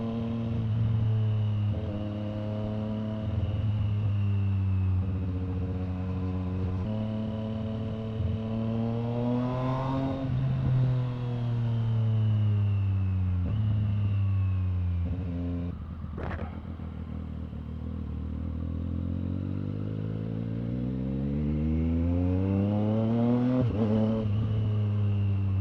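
Triumph Street Triple R 765cc motorcycle ridden on the road, its engine revving up through the gears in rising whines with short shift drops, loud and close throughout.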